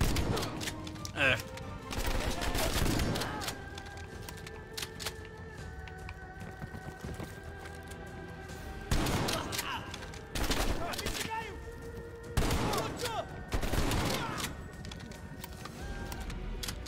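Shotgun blasts in Call of Duty: Black Ops Cold War, several loud booming shots at irregular intervals over game music and effects, with someone talking between them.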